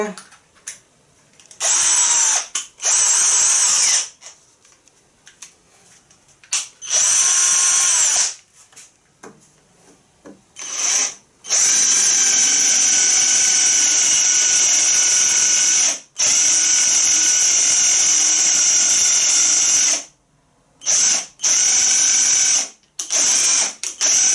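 A MEEC TOOLS 008199 cordless drill with an 8 mm wood bit bores into pine in repeated bursts of high whining motor, short spurts then longer sustained runs, with someone talking in the pauses.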